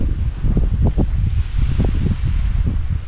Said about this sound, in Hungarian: Egész nap fújt a szél, de katasztrofálisan.